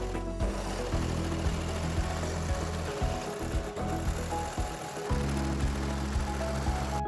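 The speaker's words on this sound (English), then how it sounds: "We are using a Baby Lock Victory Serger on these seams" A Baby Lock Victory serger runs in steady bursts while stitching the seams of children's pants, whirring loudly and close, stopping briefly between runs and then starting again.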